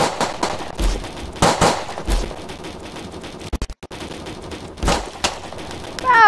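Rapid bursts of gunfire ring out in a video game as the player shoots at Edward the man-eating train; loud, close volleys arrive in irregular clusters, with a brief gap and a sharp metallic ring near the end.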